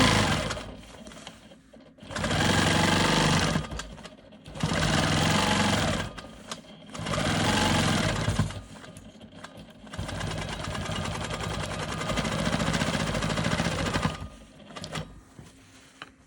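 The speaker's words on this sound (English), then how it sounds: "I'm going to come down and stitch in the ditch here" A sewing machine stitches in the ditch on a diamond quilt block, running in several sustained bursts of rapid mechanical clatter separated by short pauses, close up and with no talking.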